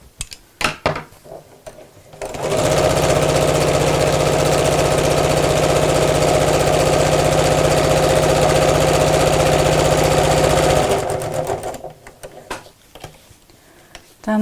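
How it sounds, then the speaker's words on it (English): A sewing machine stitches a craft bag in one continuous run of about eight seconds: a loud, even mechanical whir with a rapid needle rhythm, framed by soft handling clicks before and after. "I'm just coming back up to where I started sewing, so my stitches meet"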